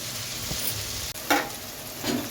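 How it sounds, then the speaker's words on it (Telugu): Tomatoes cook in oil in a pan for gongura (sorrel leaf) chicken, giving a close, steady sizzle broken by a few brief stirring scrapes. "మనకి టమాటాస్ కూడా మంచిగా మగ్గిపోయే వరకు మగ్గనిద్దాం."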